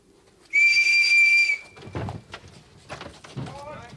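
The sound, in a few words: whistle being blown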